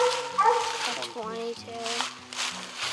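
Hunting dogs bark during a nighttime raccoon hunt in the Ozark hills, a run of overlapping barks and yips under people talking.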